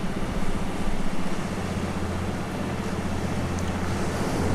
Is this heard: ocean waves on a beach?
yes